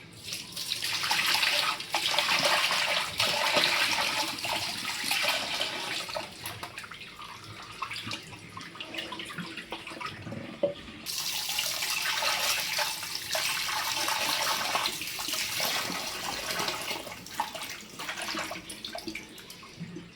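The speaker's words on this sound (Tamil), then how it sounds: "ஒரு 2 தண்ணி ஊற்றி நல்லா வாஷ் பண்ணிட்டு அதுக்கப்புறமா உள்ளே இருக்கிறதெல்லாம் க்ளீன் பண்ணிடலாம்." Tap water pours steadily over raw chicken being washed in a kitchen sink for a chicken kurma, a loud continuous splashing rush that shifts in tone partway through, with no talk.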